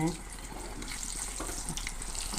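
Sukhiyan balls fry in oil in a pan, a soft steady bubbling sizzle heard close but fairly quietly, with no talk.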